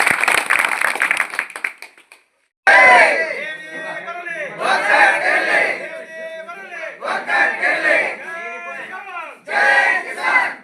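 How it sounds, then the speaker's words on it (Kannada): A crowd at a Karnataka Rajya Raitha Sangha farmers' union gathering claps rapidly for about two seconds. The clapping fades into a short pause, then loud crowd chanting and shouting in surging bursts follows. "ಚಪ್ಪಾಳೆ."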